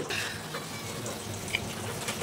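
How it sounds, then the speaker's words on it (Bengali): Water is poured into a pan of cooked-down fish curry with prawns, a soft continuous pouring and bubbling wash heard close by with faint clinks and no talk. "মাছ কষানো হয়ে গেছে, এখন এই যে পানি দিয়ে দিলাম।"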